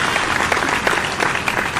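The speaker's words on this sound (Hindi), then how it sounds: "तो हर कवि की हर कविता का ताली से सम्मान कीजिए" Steady, dense clapping from the audience at a Hindi poetry recital, filling the hall evenly with no voices over it.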